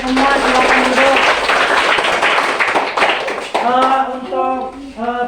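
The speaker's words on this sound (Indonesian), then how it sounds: "Tepuk tangan untuk kita semua" A group of people in a classroom session claps together, with loud, close, uneven hand claps mixed with overlapping voices and chatter.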